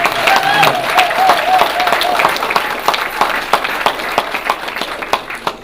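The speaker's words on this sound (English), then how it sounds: "I want y'all to clap it up for my fellow poet and author, Miss Lisa Dublin, who went on before me." An audience claps for a poet at an arts-and-city spoken word event: dense, steady applause fills the room, with a voice briefly audible over it early on before the clapping carries on alone.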